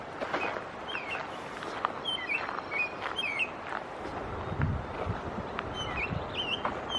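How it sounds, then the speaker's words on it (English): An American robin sings in a breezy nature preserve, repeated clear chirping phrases scattered over several seconds at moderate distance above steady wind and rustling ambience. "That is a robin."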